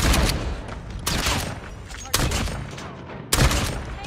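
A pump-action shotgun fires in a shooter video game against bots: four loud, booming blasts about a second apart, each trailing off into a rumbling decay.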